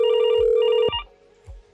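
A softphone on a FreePBX VoIP system rings while calling extension 101, giving a steady electronic ring tone that cuts off abruptly, followed by a couple of soft low thumps.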